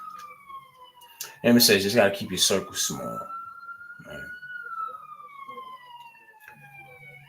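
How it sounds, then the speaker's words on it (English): Emergency vehicle sirens wail outside, a long gliding tone passing at moderate distance while someone talks over it nearby. "Y'all excuse the sirens"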